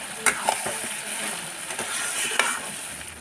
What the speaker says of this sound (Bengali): এখন আবার একটু ভালো করে নেড়ে চেড়ে নেব।